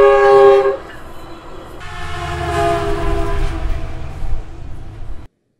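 A loud train horn blares in a long sustained blast at a railroad crossing, then cuts off as the rumble and clatter of a passing Metrolink train carries on nearby.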